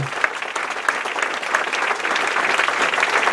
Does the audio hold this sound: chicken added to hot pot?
no